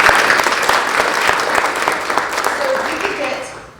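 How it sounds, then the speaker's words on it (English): A crowd applauds at a fall grant celebration for a county foundation in a performing arts hall, a dense, steady clapping that holds loud and even for several seconds before tapering slightly at the end. "All right, round of applause"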